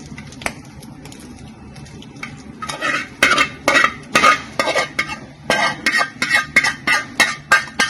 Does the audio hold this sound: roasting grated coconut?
yes